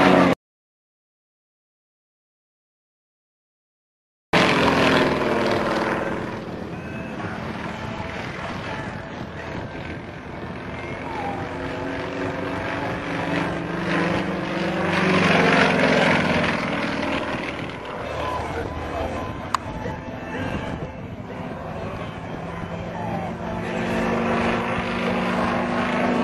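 Large aircraft flying aerobatics at an air show: after a few seconds of silence, a loud, steady engine roar rises in and holds, swelling and shifting in pitch as the plane passes overhead.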